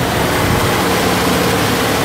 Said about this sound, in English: Idle's nice and smooth.